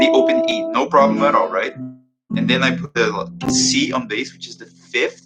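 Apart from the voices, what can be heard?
No distinct noise like a dog, phone or traffic.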